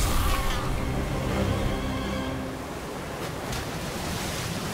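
Surf-like water waves in the video game Ori and the Will of the Wisps, a steady broadband wash that stays loud for the whole stretch and eases off slightly partway through, with no talking over it.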